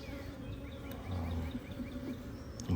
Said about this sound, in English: Definitely a lot more bees in this one.